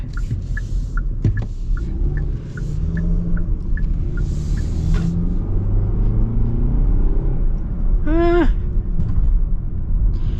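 Steady low road rumble and engine hum inside a 2025 Kia K5 GT-Line while driving, constant throughout, with repeated turn-signal-like ticks early on and a brief rising tone near the end; no talking.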